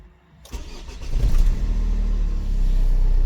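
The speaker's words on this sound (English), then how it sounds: "So I will start only the engine" A Renault Espace IV's engine cranks and catches after a moment of quiet, then settles into a loud, steady low idle close by.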